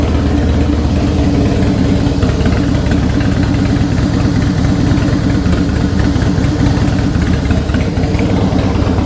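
A 2003 Harley-Davidson FXST V-twin idles loud and close through Vance & Hines exhaust pipes, a steady, even low throb that holds alone for the whole stretch.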